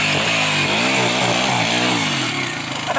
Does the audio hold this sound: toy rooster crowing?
no